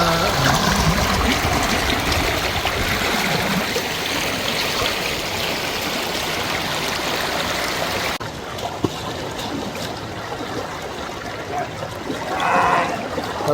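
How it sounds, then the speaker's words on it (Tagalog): A strong river current rushes at a rainy campsite, a loud, steady roar of flowing water heard up close that continues without a break, with a brief faint voice near the end. "Lakas ang agos."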